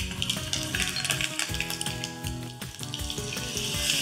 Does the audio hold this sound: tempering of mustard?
yes